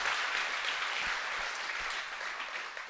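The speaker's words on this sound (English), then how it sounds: "thank you for the applause" Steady applause from a conference audience fills the room, a dense wash of many hands clapping at even strength before slowly thinning toward the end, with no voices over it.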